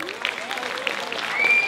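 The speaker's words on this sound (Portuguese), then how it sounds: "Palmas, por favor, queridos." Audience applause at the opening of the "Wunderschön" exhibition in São Paulo, clapping from a crowd with voices mixed in and a thin whistle-like tone toward the end.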